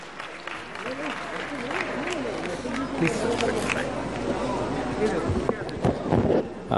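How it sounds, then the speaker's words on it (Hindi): A crowd at a World Vegetarian Awareness Day gathering in Delhi claps steadily to welcome a neurology professor to the stage, with voices talking over the moderately loud applause. "तालियों के साथ स्वागत कीजिएगा"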